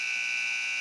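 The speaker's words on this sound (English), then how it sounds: "The buzzer alarms, and we will start our third quarter." A basketball game buzzer sounds before the third quarter of a girls' high school game, a loud, steady electronic tone held without a break.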